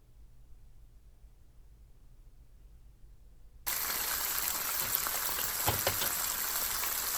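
Chicken pieces sizzle in a hot pan for poulet yassa, a steady dense hiss that starts abruptly after near-silence and holds loud and continuous with occasional pops.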